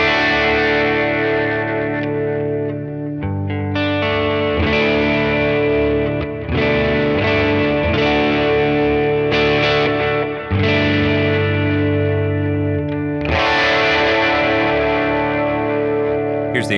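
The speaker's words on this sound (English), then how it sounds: "Here's a little delay and reverb." Electric guitar played through pedals into an amp-replacement plugin with delay and reverb, sustained chords and phrases ringing out with echoing tails and a brief pause midway, no voices.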